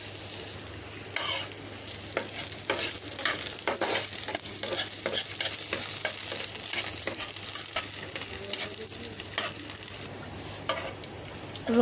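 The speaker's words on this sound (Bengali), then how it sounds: "রসুন কুচি আর পেঁয়াজ কুচিটা একদম ভাজা হয়ে গেছে।" Chopped garlic and onion with dried chilli fry in hot oil in a pan, a loud continuous sizzle broken by repeated scraping stirs of a spatula, with no talking.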